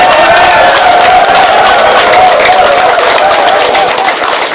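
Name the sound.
crowd applause at a campaign office opening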